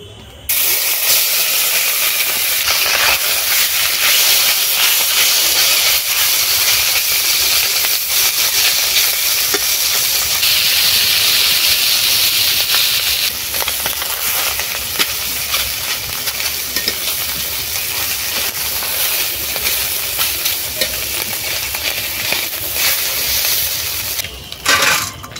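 Small fish fry in very hot mustard oil in a kadai, giving a loud, steady, hissing sizzle that runs unbroken and fills the whole stretch, with no voices.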